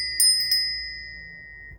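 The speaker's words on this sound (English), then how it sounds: "hit the bell." A bright notification bell chimes twice in quick succession, each strike leaving a clear ringing tone that fades slowly over about a second and a half, alone and fairly quiet.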